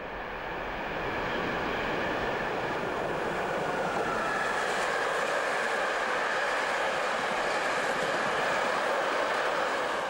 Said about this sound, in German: Die 4 Systemloks der Baureihe 189 werden dann, wie hier,